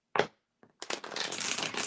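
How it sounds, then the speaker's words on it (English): Tarot cards are shuffled close by at a cottage tea-and-tarot session: a soft tap and a brief rustle, then a steady, dense riffling that runs for about a second. "One more shuffle."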